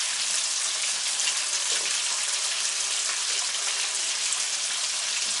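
Tofu and halloumi fry in olive oil, giving a steady, dense crackling sizzle with fine spitting, moderately loud and close, with no voices.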